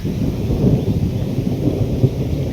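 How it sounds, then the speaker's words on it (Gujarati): A low, continuous rumble of thunder rolls steadily, deep and heavy, with no voices. "હજી ગાજે જ છે સતત"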